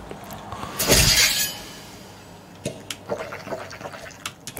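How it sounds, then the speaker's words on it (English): Water swishes in the Roblox game Infectious Smile: a louder sloshing burst, then a stretch of quieter, scattered liquid sloshes and splashes; no talking. "It sounds like someone's swishing water in their mouth."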